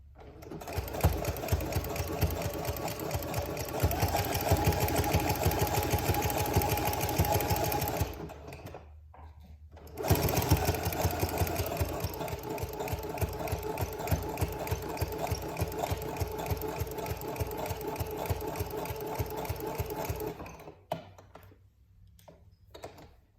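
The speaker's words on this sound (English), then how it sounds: "I do like to practice kind of detailed stitching here as much as I can, just for practice." Sewing machine stitching a gusher pad, a fast steady mechanical whir of needle strokes running close and loud in two long stretches, separated by a short pause and stopping near the end.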